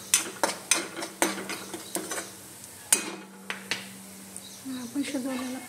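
A spoon stirring spices in a cooking pan for spinach kalvan, with a run of sharp metallic scrapes and taps in an uneven rhythm, close and fairly loud, easing into softer sizzling toward the end.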